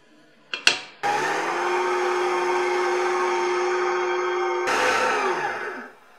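An electric mixer beats egg-white batter for a lapis legit cake: a short clatter, then a steady loud motor whine that holds for several seconds, shifts pitch briefly and winds down to silence.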